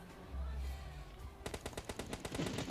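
Rapid automatic gunfire in the video game PUBG Mobile, Sanhok map: a quick rhythmic burst of loud shots follows a quieter rumble, with roughly a dozen evenly spaced cracks.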